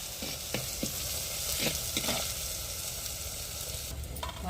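Potato and tomato curry with chili powder and fried onions is stirred in a frying pan. The loud, steady sizzle is broken by repeated close scrapes and knocks of the spoon, and no one speaks.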